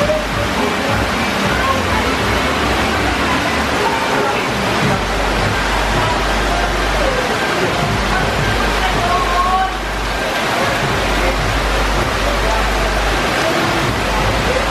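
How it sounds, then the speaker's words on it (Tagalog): Heavy rain pours in a dense, steady hiss with a low rumble underneath, continuous throughout, with faint voices in the background. "There's a bad rain."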